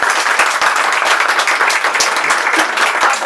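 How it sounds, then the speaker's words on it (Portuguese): An audience applauds a presenter at a speaking event, with dense, steady clapping that stays loud and even for the whole stretch. "Então vamos dar uma salva de palmas para o Colistete."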